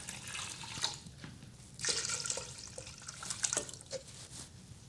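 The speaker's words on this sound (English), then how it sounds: "So we got our 8 cups of water in here." Tap water pours into a cooking pot while 8 cups are measured out for New Orleans-style red beans and rice, a steady running splash with brief surges and drips, no voices.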